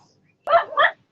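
A dog at home gives two quick, close barks in a row, sharp and loud against an otherwise quiet room.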